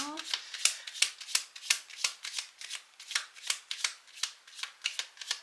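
Tarot cards being shuffled for a reading, a close run of crisp riffling bursts repeated at a steady pace, about twenty in quick succession, with no talk over them.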